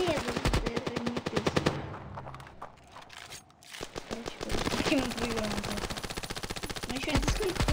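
Video game gunfire rattles in rapid automatic bursts, loud and close, dropping to a brief lull before firing resumes steadily.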